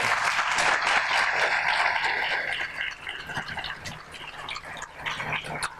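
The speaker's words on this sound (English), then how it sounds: "How about a nice round of applause for everyone?" Audience applause for the contestants at the Miss Cochranton Pageant 2017, a broad sustained clapping that thins slightly toward the end.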